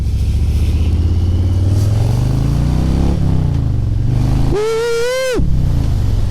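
A deep, loud Harley-Davidson Low Rider S engine, a 1868 cc Milwaukee-Eight 114, rumbles steadily nearby, its pitch rising and falling slightly, with a brief high whine near the end.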